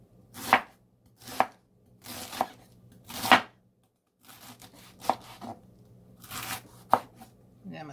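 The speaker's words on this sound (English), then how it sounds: "Alright, let's chop it and see what we got." A knife chops freshly harvested produce on a board in about eight sharp, close strikes at an uneven pace, with brief rustling between cuts and no talk.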